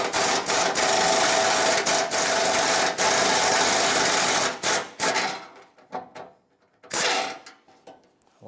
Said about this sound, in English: let's undo this bolt that connects the center piece of the bumper to this driver's side corner piece